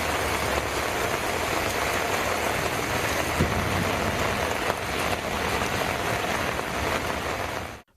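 Heavy rain pours down during a thunderstorm in Tamil Nadu, a dense, steady roaring hiss of rainfall that stays loud throughout, with a faint low engine hum beneath it.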